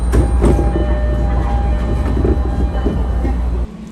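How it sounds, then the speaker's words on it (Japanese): A JR Sagami Line train rumbles loudly and close at Ebina Station, a continuous heavy rolling roar with rhythmic wheel clatter on the rails, cutting off sharply near the end. "こちらの列車が到着してからすぐ来ました。 そして後から来た対向列車が先に発車します。"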